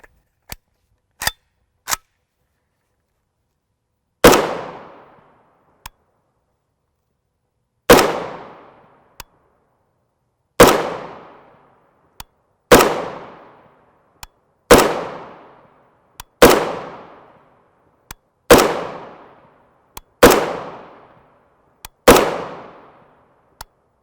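Short-barrel 7.62x39mm rifle with a JMAC Customs RRD4 muzzle brake firing 123-grain FMJ brass-case rounds from a bench: about eleven loud, sharp shots with ringing decay, spaced a second or two apart, plus small clicks and handling sounds between them.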